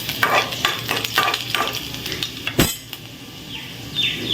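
Chopped garlic fries with mustard seeds and cumin, heard as close rhythmic metal spoon scrapes against the pan over a light sizzle, with one louder clank near the end.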